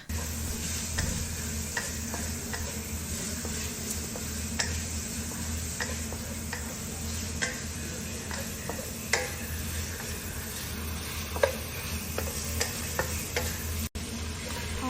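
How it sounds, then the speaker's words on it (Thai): Pieces of pork stir-fry in a wok with garlic, with a steady background sizzle and frequent sharp clicks and taps from stirring against the pan, at moderate volume, with no talking. "แล้วเราก็ใส่หมูของเรานะคะ หมูชิ้นเนี่ยค่ะ เตรียมลงไปเลย ใส่ลงไปแล้วก็ผัดนะคะ ผัดให้หอมเลยนะคะ"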